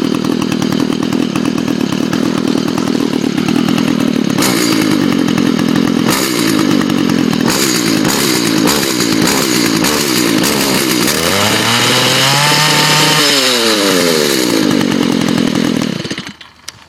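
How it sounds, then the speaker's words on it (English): A string trimmer with no line fitted and its spark arrestor removed screams at the rev limiter outdoors, a loud, raspy two-stroke buzz that stutters rhythmically as the limiter cuts in, with a falling whine near the end before it abruptly stops. "It's hitting that rev limiter because it doesn't have any string on it"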